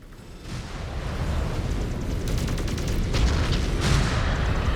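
Missile explosions in the MechWarrior 5: Clans game, a rolling series of deep booms and bursts building in loudness over several seconds, close and heavy with no talking.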